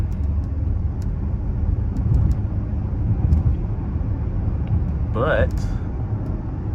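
A V6 Dodge Charger cruises on the road in the rain, its engine and tyre roar a steady low rumble throughout, with a person speaking briefly over it.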